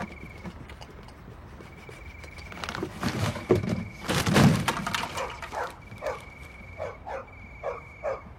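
A dog barks at night in a garden area of Île-de-France, a series of sharp barks building in the middle and repeating in shorter bursts, moderately distant with some rustling.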